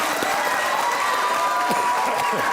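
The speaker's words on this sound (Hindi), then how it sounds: "वाह, तालियां होनी चाहिए भाई" Studio audience applause at a Pakistani comedy talk show, a steady burst of clapping and crowd noise with voices mixed in throughout.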